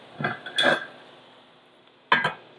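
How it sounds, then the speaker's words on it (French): A lid set onto a pan of chicken livers cooking gently on the stove: two close metallic clanks and clatters about two seconds apart, with quiet room tone between them. "En fait, tu peux mettre le couvercle"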